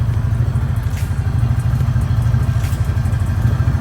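Steady low rumble of a Hisun Sector 550 UTV engine idling and running while gears are shifted, a constant throbbing drone close by with faint clicks on top and no voices.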